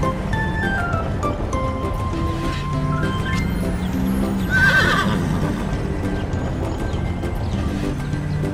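A cartoon horse whinnies and neighs with clip-clopping hooves, the calls rising to a louder burst midway, set among playful toy-vehicle sound effects and no speech.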